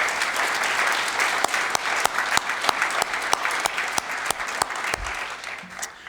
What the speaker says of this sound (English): Let's give Highmark a warm round of applause